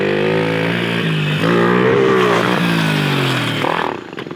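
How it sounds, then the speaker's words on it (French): A mini motorcycle engine revs hard and rises in pitch during a backflip attempt, a loud buzzing snarl close by that climbs, dips and cuts off near the end. "Ça va tourner, c'est une mini moto"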